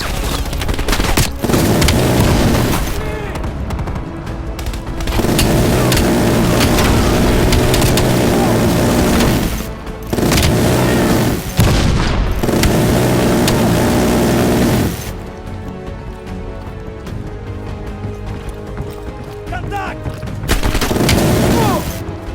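Bomb strike explosions in Call of Duty: Black Ops Cold War, loud sustained blasts and crackling debris rolling in long waves with brief quieter gaps, some voices over the din.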